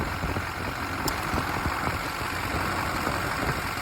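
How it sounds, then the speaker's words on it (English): A car engine idles steadily with the AC compressor engaged, a constant close running drone with faint knocking ticks throughout and no speech. "we're gonna go underneath, and we're gonna see if this compressor is actually running"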